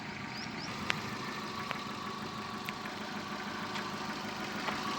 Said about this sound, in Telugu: ఇంజన్ సౌండ్ చూడండి.